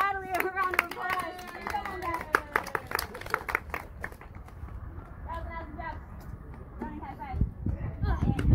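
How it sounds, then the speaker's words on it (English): A small outdoor group claps for someone at the Grand Canyon South Rim, with scattered hand claps mixed with voices and ambient noise over several seconds. "Let's give Adelie a round of applause."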